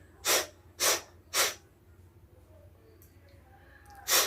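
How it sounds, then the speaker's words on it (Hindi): Three quick sneezes into a towel after a jal neti saltwater nasal rinse, evenly spaced and close, followed by soft breathing and a fourth burst at the end. "अब टॉवल पे इसे थोड़ा छींकना है ताकि अंदर जमा पानी निकल जाए।"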